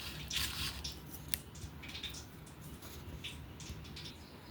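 Bajji batter mixed firmly by hand in a bowl: soft wet squishing and slapping, with a few sharper clicks, steady and close throughout.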